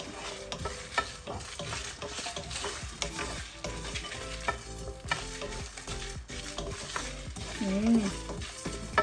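Cumin seeds, coriander seeds and dried chillies dry-roasting in a pan while being stirred, giving a steady scraping, rustling texture with dense crackle throughout and a brief tonal squeak near the end.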